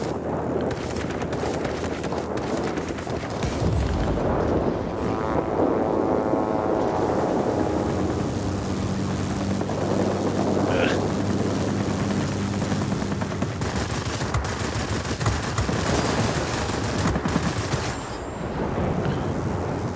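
Aircraft machine guns chatter in a World of Warplanes dogfight over a J6K1 Jinpu, with continuous loud rapid fire layered over droning engine roar and whining passes, dense and steady throughout with no voices.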